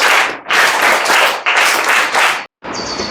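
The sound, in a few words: audience applause for a speaker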